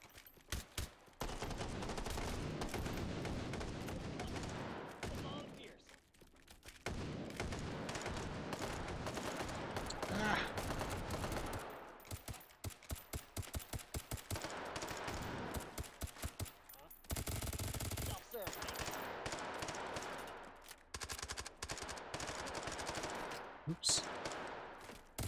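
Rapid automatic gunfire in the VR shooter Hot Dogs, Horseshoes & Hand Grenades, dense bursts of sharp shots stretching across long stretches with brief pauses, loud and close, mixed with occasional speech.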